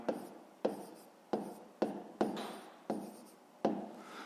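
A hand writes out a math answer on paper, about eight faint, crisp strokes spaced at a fairly even rhythm, each starting sharply and fading, heard up close in a quiet room.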